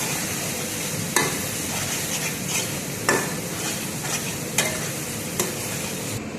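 Chicken with chili paste, turmeric and spice powders is stir-fried in a pan, with a continuous sizzle broken every second or two by sharp scrapes and knocks of the spoon against the pan.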